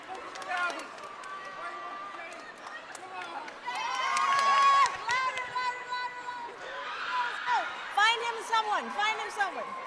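A crowd at a college scholars orientation cheers and shouts in bursts, with whoops and high yells rising and falling over several seconds and a louder swell midway, mixed with chatter and a few claps.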